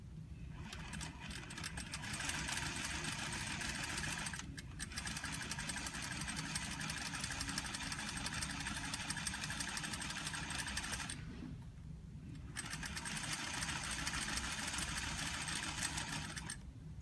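Sewing machine stitching a seam for a turned and stitched seam finish: a steady, fast mechanical whirring run of stitching, briefly stopping twice, close and fairly quiet, with no talk.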